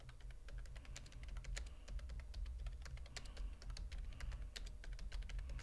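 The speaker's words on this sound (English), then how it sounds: "I'm just typing to Botter there." Steady, rapid typing on a computer keyboard, many sharp key clicks in an uneven rhythm over a low background hum, fairly close and moderately loud.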